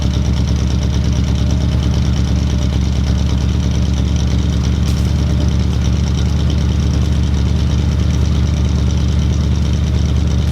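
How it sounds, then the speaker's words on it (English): A Mustang car engine idles steadily with a deep, even rumble and a constant low throb, close and loud, with no voices. "the engine's running great"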